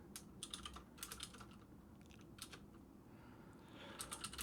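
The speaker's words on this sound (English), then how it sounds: "I don't know why I'm typing this." Rapid keystrokes on a computer keyboard during a live coding session, coming in quick bursts separated by short pauses, faint and close against a steady background hiss, with no talking.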